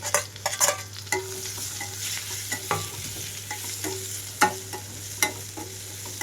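Boiled broad beans (chikkudukaya) stir-fried with turmeric in a pan, with a continuous soft sizzle and repeated scraping, clinking stirs of a spatula at an irregular rhythm, close up and with no talk.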